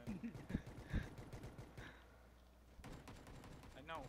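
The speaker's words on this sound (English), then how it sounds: "I'm using my pistol." Pistol fire in the battle royale shooter PUBG, heard as a few faint, separate shots with short gaps between them. The shots are mixed with low voices in the background.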